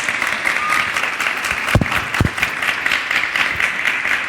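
An audience at a round-table discussion on politics claps in a sustained, even round of applause, with a couple of louder thumps near the microphone partway through.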